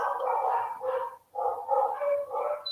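Dogs bark in a quick run of repeated yips and woofs, fairly close and moderately loud, with a short pause midway before the barking resumes, and no talking.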